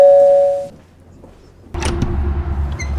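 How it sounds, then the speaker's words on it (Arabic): A doorbell rings in a home as a single clear electronic tone that fades within a second, followed after a short silence by clattering household noise. "الجرس بيرن"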